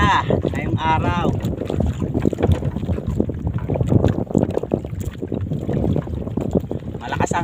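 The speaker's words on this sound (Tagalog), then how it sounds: "Malakas ang hangin ngayon." Strong wind buffeting a small boat at sea, a rough, gusty roar with water noise throughout, up close and loud, with brief voices partway through.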